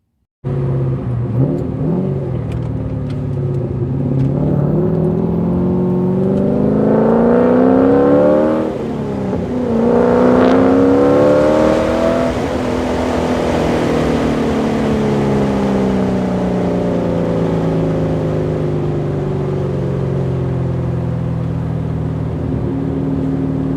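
Porsche 944 fitted with an LS V8 engine, driven on the road, its loud engine drone rising and falling through revs and gear changes, sustained and close throughout.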